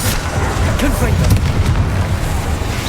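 A Confringo spell explosion in Hogwarts Legacy, a deep rumbling boom with crackling debris, loud and close, mixed with voices.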